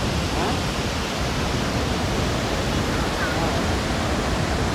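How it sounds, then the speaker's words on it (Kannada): Broadband roaring rush of the Gaganachukki waterfall on the Kaveri river at Shivanasamudra, steady and loud throughout with no pauses, heard close up and with no talking. "ಹಾಲಿನ ನೊರೆಯಂತೆ ಬೋರ್ಗರೆದು ಧುಮುಕೋ ಈ ಕಾವೇರಿ ಆರ್ಭಟ"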